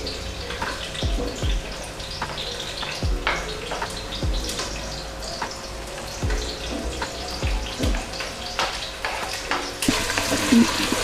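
Vegetables fry in oil in a pan on a home stove, with a steady soft sizzle broken by repeated sharp stirring and scraping clicks, close and moderately loud, with no talking.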